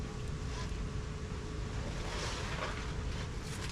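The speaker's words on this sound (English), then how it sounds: "it's windy today" Strong wind gusts roar across an outdoor cooking spot, a dense, continuous buffeting rush that batters the microphone throughout, loud and close with no voices.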